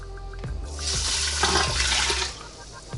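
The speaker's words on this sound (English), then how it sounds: "I'm going to pour in my rice and pour in my 2 cups of water." Water poured into the pot of an Emeril Lagasse pressure air fryer over rice, a steady splashing gush that swells in the middle and tapers off, close and fairly loud with no talking.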